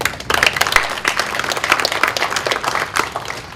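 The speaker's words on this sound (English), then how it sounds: "You all deserve a round of applause for being here." Audience applause at a disabilities forum, a dense, steady wash of clapping that stays fairly loud and even throughout, with no voices standing out.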